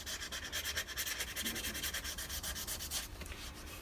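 Sandpaper is rubbed lightly over a wooden yarn bowl in quick, even strokes, giving a soft, close, rhythmic scratching at low volume, with no voice.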